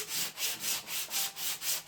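A wooden model ship hull is sanded with a sanding block in about six even back-and-forth strokes, each a soft, close, rhythmic rasp, with no talking.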